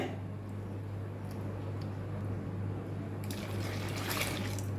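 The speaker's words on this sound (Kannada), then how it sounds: "ಇದಕ್ಕೆ ನಾನು ಪುನಃ ಎರಡು ಗ್ಲಾಸ್ ನೀರು ಹಾಕ್ತೇನೆ" Two glasses of water poured into a mixer jar while making a green gram summer drink; a continuous trickling stream that swells into a brighter, louder splash near the end, with no voices.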